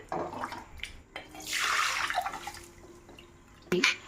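Water drained off soaked rice in a kitchen: a loud rushing pour swells and fades over about a second, followed by light drips and a final short splash.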